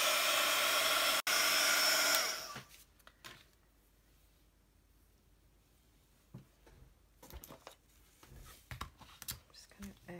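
A hair dryer blows loudly for about two seconds, briefly cutting out once, while drying a craft shadow box, then stops, leaving quiet taps and rustles of crafting close by.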